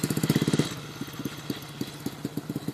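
Motorcycle engine that cannot hold its revs, running close by with a rough pulsing chug that starts stronger, then falls to an uneven, stumbling idle of irregular beats.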